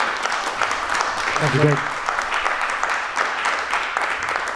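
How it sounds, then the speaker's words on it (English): Applause from an audience thanking business speaker Greg Raymond, a steady dense patter of clapping lasting throughout, with someone briefly speaking over it midway. "How about a round of applause for Greg?"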